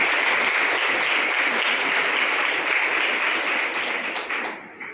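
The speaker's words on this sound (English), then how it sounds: "You can give a clap, correct?" An audience of students at an International Women's Day celebration gives sustained applause, a dense, even roar of many hands clapping that thins and tapers off at the end.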